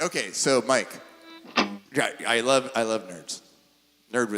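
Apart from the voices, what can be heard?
No distinct noise like a dog, phone or traffic.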